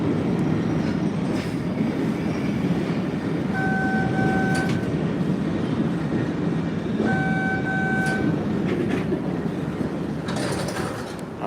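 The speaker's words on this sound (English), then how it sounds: "the train going slow so far" An MBTA Red Line subway train runs slowly under a speed restriction, with a steady low rumble of wheels on rail. Occasional clicks and two brief high tonal whines are heard from inside the car, and no one speaks.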